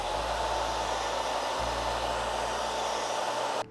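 A salon hair dryer blows continuously on hair being sectioned for a dryer-based ombre colour, a loud steady whoosh with a low hum that shifts slightly midway before the dryer cuts off near the end.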